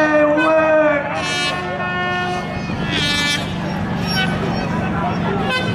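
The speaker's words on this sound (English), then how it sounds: "If you've got a horn, get ready to honk it" Several horns honk at once in loud, overlapping toots at a harbour carnival dinghy race in Guernsey, with a crowd cheering and voices underneath.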